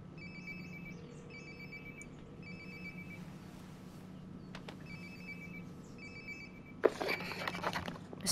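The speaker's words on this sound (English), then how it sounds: "Sounds like my phone is definitely nearby." A phone rings in the video game Life is Strange: Before the Storm, repeated electronic ring bursts at a steady rhythm, moderately loud over a low ambient hum, ending with a louder clatter.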